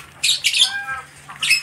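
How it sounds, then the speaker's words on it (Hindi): Birds squawk in loud, harsh bursts with chirpy calls between, close by and clear, in a couple of rapid clusters with a brief quieter gap before a final burst. "तो ये रहा चिड़िया, ये देखिए"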